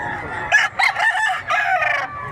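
A silver grey bullstag gamefowl rooster with black legs crows loudly and close by in a single drawn-out call, with several broken rising and falling segments.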